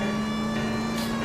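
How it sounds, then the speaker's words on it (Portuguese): A police car siren in L.A. Noire wails steadily with a sustained tone over a low engine rumble, a brief continuous stretch with no talk. "eu tô com uma porra de uma sirene ligada"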